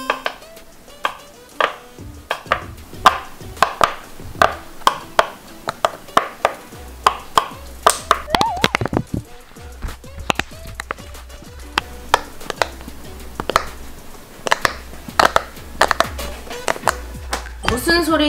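A silicone pop-it fidget toy is pressed and popped in quick irregular clicks and snaps, close and crisp, with a voice talking underneath in places.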